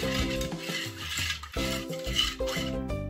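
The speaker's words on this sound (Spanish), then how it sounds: "Vamos a mover un poco." A spoon stirs a custard mixture of sugar, lemon peel and cinnamon in a Tupperware Microcook jug, scraping and clinking against the sides in steady, close strokes under background music, with no talk.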